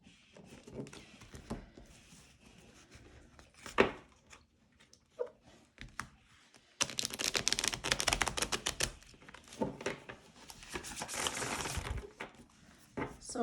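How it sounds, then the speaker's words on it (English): Cards are riffled and bridged in quick crackling bursts, scattered light taps at first, then a longer dense rippling flurry up close. "And then they riffle shuffle beautifully as well."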